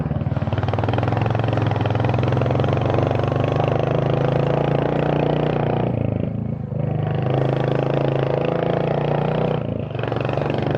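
A motorcycle engine roars loud and close while overtaking on the Kaptai lake road, holding a strained drone with two brief dips as the throttle eases and picks back up.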